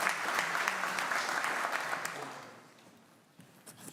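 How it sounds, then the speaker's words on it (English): An audience at a DevOps conference in Amsterdam gives a speaker a round of applause, full clapping that gradually thins out and trails off to a few scattered claps. "another round of applause for Bizra"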